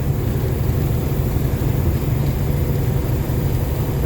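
A deleted Series 60 14-liter diesel engine runs in a loaded truck, giving a steady, close, heavy low rumble with a constant drone throughout.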